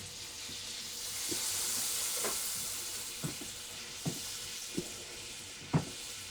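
Hoe cakes frying in bacon grease and butter in a pan, giving a steady close sizzling hiss with a few soft taps and clinks of a utensil toward the end.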